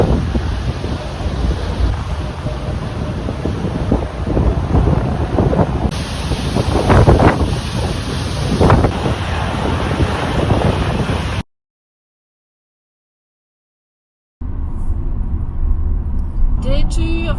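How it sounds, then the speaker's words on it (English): Wind buffets the microphone on a ferry deck heading toward Double Bay, with waves and water rushing beneath a constant roaring hiss, broken by a few seconds of total silence before the gusting resumes. "Back on the ferry."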